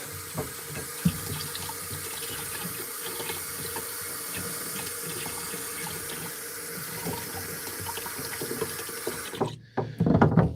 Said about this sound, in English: I am going to drain out this crappy water